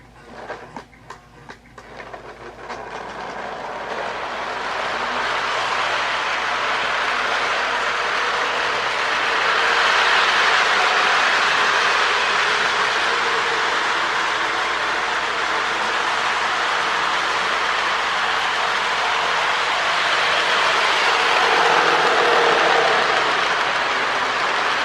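A Lionel-style O-gauge model train with light Elko locomotives and magnet traction runs on track, giving a steady rolling rumble and clatter that builds after a few seconds and continues at an even level.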